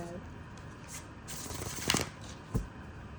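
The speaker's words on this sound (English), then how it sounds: "Wow, did you see this shuffle?" A quick riffle of cards being shuffled for a card reading, crisp and fairly quiet, over faint background rustling.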